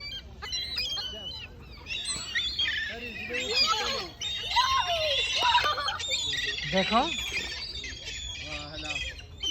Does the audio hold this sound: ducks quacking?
yes